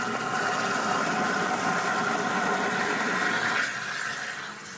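Water rushes steadily into a toilet tank through a float valve, a continuous hiss and gurgle that eases off slightly near the end.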